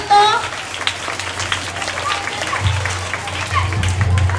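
An audience at a Spanish-language school anniversary event claps for a boy reciting a poem, steady applause spread across the room with a low hum and a little talk underneath.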